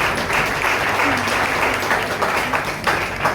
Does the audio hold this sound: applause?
yes